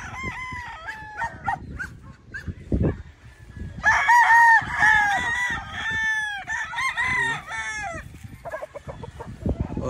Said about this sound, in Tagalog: Ayan yung mga manok nila.